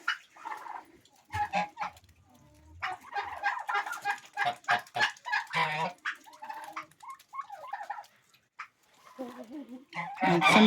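Chickens cluck in short, irregular bursts close by, with a young white naked-neck rooster among them and occasional quiet gaps between calls.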